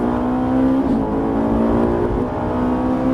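A Ferrari 458 at full throttle on a race circuit gives a loud, steady engine drone, its pitch rising slightly as it pulls hard, heard close from inside the car.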